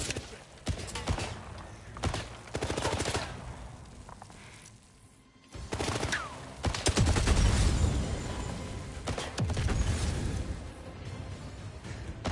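AK rifle fire in 007 First Light comes in repeated bursts and single cracks, with scattered impacts and blasts, loud and close, pausing briefly midway before heavier firing resumes; faint voices sit underneath.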